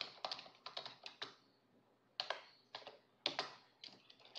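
Computer keyboard keys tapped while writing Python code, with short clusters of crisp, close clicks separated by brief pauses, clear in a quiet room.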